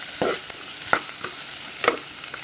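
Onions and curry leaves fry in a pan with a steady low sizzle, broken by a few sharp stirring clinks of a utensil against the pan, no voices.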